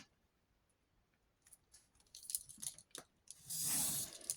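Paper being cut out with scissors during a craft session, a series of short crisp snips and rustles that build into a denser, louder stretch of cutting near the end, close and alone.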